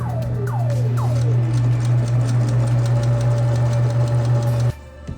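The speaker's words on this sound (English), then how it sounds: "put that presser foot back down, and then just keep sewing" Sewing machine stitching window cover fabric for a Ram ProMaster camper van, a steady close mechanical hum with rapid ticking running continuously for several seconds, stopping abruptly near the end.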